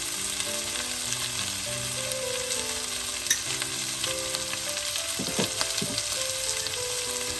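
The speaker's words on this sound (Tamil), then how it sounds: "சேர்த்துட்டு நல்லா எல்லாத்தையும் சேர்ற மாதிரி எடுக்க கிண்டி விடுவோம்" Potato curry frying in a pan as salt and chili powder are stirred through it, a steady close sizzle with scraping stir strokes throughout and no voices.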